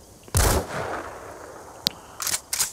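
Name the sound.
sniper rifle shot in video game Metal Gear Solid V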